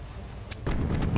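Ship cannons fire in the pirate strategy game Tortuga: A Pirate's Tale, a sharp boom followed by a loud, sustained rumbling blast with no voices.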